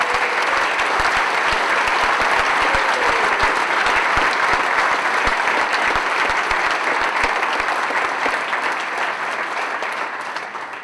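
Sustained, loud applause from a hall of fame induction audience welcoming swim coach David Salo. Dense, steady clapping fills the room throughout and fades slightly at the end.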